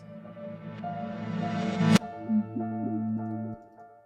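Backward-played tones swell up and cut off abruptly, with a rising whoosh ending in a sharp stop, followed by sustained synth notes.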